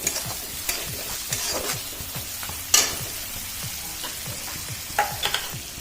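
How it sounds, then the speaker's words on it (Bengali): A spoon stirs prawn malai curry with added sugar in a pan, giving a soft, continuous sizzle with regular scraping strokes and a few sharper clinks of utensil on metal. "ওতে চিনি দিচ্ছি নেড়ে যাচ্ছে"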